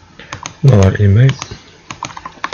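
Quick bursts of light clicking on a computer keyboard as an email address is typed, close and crisp, with a short stretch of voice in between.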